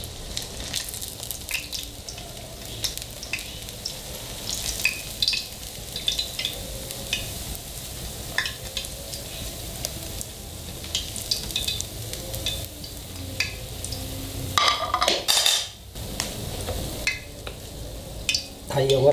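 Green corn fritters frying in hot oil, a continuous close sizzle and bubbling with occasional stirring and utensil scrapes, building to a louder burst of frying near the end.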